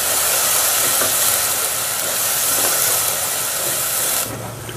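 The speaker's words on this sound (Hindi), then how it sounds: "अब इसको डालकर 2 से 3 मिनट अच्छे से भूनेंगे।" Garlic and ginger paste sizzles and fries in a hot pan, a steady, loud broadband hiss that holds evenly before dropping slightly near the end.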